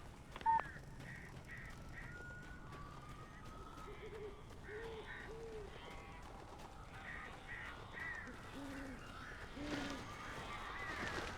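Crows cawing in a repeated series of harsh calls in the video game Alan Wake, moderately distant and faint over a dim ambient bed, with occasional soft sounds in between.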